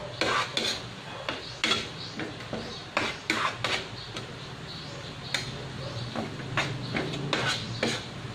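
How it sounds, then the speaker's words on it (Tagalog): Chili garlic being stirred in a pan: steady scraping and clinking of a utensil against the pan over a low sizzle, in irregular repeated strokes, with faint talk in the background. "kailangan halu-haluin nyo para pantay na pantay yung pagkakaluto niya"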